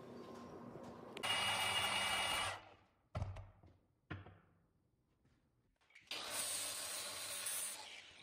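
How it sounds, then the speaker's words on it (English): An angle grinder finishes radiused edges on steel parts for a belt grinder, in two loud sustained bursts of high whining, rasping grinding separated by a few quieter knocks and pauses. "here I'm just using the angle grinder to finish some of the radiuses and break the edge so it's not sharp"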